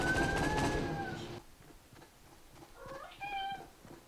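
A pet cat meows loudly and close at first, a long drawn-out call, then after a pause gives a couple of shorter, quieter meows.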